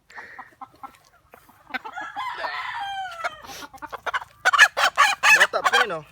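Native chickens on a farm, with a rooster crowing and hens clucking in a quick, irregular series of loud, close calls that grow busier toward the end, with no talk over them.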